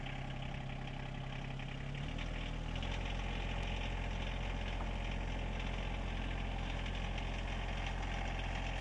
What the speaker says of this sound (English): So we got the tractor started.